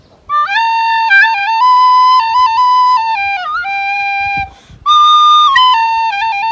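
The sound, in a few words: person whistling imitating a flute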